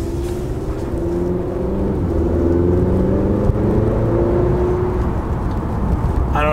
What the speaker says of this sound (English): this thing's got an amazing exhaust note